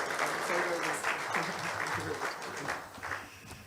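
An audience at a formal Kenyan event keeps clapping steadily while a guest walks up, moderate and somewhat distant applause with a voice speaking faintly beneath it.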